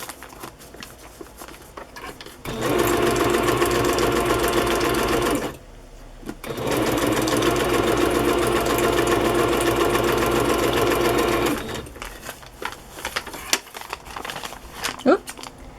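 Sewing machine stitching free-motion crazy-quilt lines across journal pages, running loud and steady in two long bursts separated by a brief pause, then stopping as the bobbin thread runs out, followed by quieter handling sounds.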